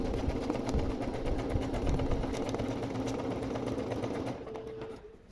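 A domestic sewing machine runs steadily while embroidering, its fast needle whir continuous and close for several seconds before easing off near the end.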